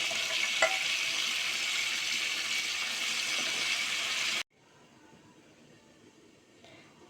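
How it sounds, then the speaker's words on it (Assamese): Boiled taro and pigeon pea dal hitting a hot frying pan, a loud broadband sizzle lasting several seconds before cutting off abruptly to quiet faint crackling. "এতিয়া মই ইয়াত বইল কৰি লোৱা কচু দালিখিনি দি দিম।"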